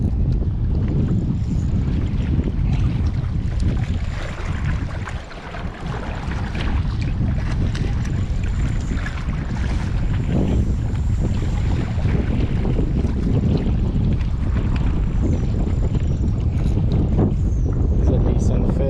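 Strong wind batters the microphone at Lake Gregory, California, a loud, continuous roaring rumble that dips briefly midway, with a voice faintly under the gusts.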